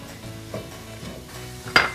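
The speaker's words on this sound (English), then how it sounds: "I'm going to turn this up to medium heat, get it going. And we want to saute this probably about 10 minutes." Vegetables sautéing in a pan over medium heat for a meatless lasagna make a soft, quiet sizzle with light stirring, ending in a sharp clink of a utensil against the pan.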